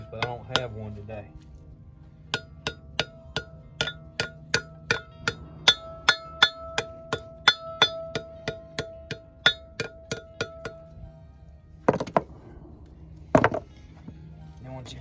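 A hammer taps lightly on a metal trailer axle part, a dense run of sharp ringing strikes at a steady pace of about two per second, moving around the part, followed by a pause and two louder, scraping knocks near the end.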